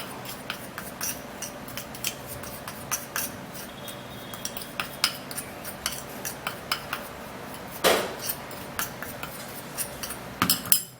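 A spoon mixes tooth-whitening paste of baking soda and coconut oil, making a run of small, irregular scraping clicks against a dish, close and fairly quiet.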